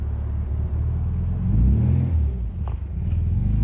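A 1968 MGB engine revving as the clutch engages during stick-shift practice, a low steady rumble that swells and strains in the middle, then settles, close and fairly loud with no talk.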